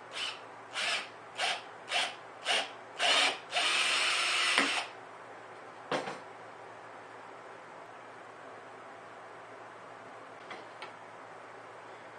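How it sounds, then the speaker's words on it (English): An electric drill bores a hole through the center of a 5-gallon bucket lid for a homemade PVC desk fan. Several short, loud whirring bursts come in quick succession, then one longer steady run, followed by quiet with a few faint clicks. "Now we gotta do is drill the hole in the center"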